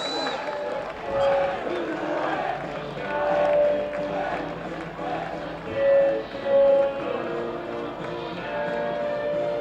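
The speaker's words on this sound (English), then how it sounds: "Let's see your Shawbridge with a big round of applause" Crowd at a Clitheroe FC versus Widnes football match, a broad murmur of spectators and scattered applause swelling in waves, with an announcer's amplified voice over the top.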